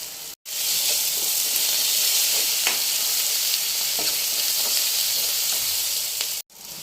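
Sliced onion and turmeric sizzling loudly in a hot pan for an egg pulusu curry, a steady close hiss with occasional stirring scrapes, starting and stopping abruptly.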